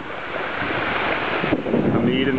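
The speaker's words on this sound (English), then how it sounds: "the little whirlpool, and the big waterfall heading up." Rushing water from a waterfall in Copper Canyon roars steadily at close range, a broad continuous wash with some wind buffeting on the microphone.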